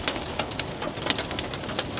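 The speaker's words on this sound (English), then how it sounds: "Well, there's some hail." Hail striking a storm chaser's vehicle inside a thunderstorm core in Kansas: a dense, continuous rattle of small hard impacts on the body and roof, with sharper individual hits standing out, heard from inside the cab.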